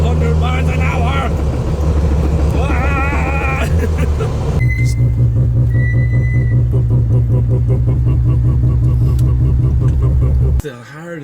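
Datsun Sunny truck engine rumbling steadily while driving, a loud close low drone with an abrupt cut near the end, and people talking over it.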